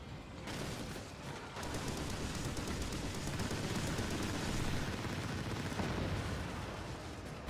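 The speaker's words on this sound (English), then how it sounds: "There's the rockets coming into play. Look at that. Just a barrage." A rocket barrage in the pirate naval game Skull and Bones sets off a dense, continuous rumble of overlapping explosions and rapid blasts, loud and unbroken for several seconds.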